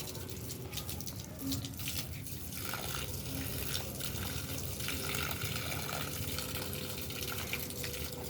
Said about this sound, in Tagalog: basain natin mabuti para matagal matuyuan kasi ang init dito